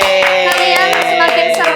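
Rhythmic hand clapping at a steady, quick pace, loud and close, with a tonal hum underneath and no talking.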